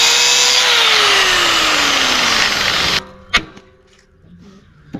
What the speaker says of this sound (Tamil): இதையும் கட்டிங் மிஷினை போட்டு நம்ம கட் பண்ணி வந்து எடுத்துக்கலாம்